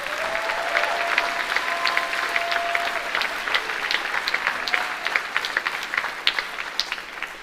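Steady applause from an audience at a university State of the University address in Utah, dense clapping sustained throughout at moderate distance, with a faint tonal hum underneath.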